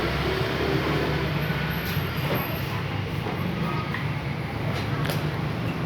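Thai commuter train number 4314 pulling into Wongwian Yai station, a steady broad rumble of rolling rail cars with faint clatter throughout, close and continuous, with soft background voices.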